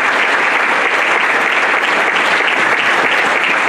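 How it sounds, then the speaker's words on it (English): A loud, dense round of applause fills an Athletics Hall of Fame ceremony hall, steady and unbroken throughout with no voices over it. "I'd like to give another round of applause"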